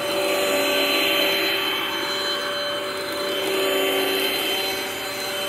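A 2010 Sanitaire Multi Purpose Pro upright vacuum runs in a church basement with a steady, loud motor whine and airflow roar that holds constant, with slight swells in level.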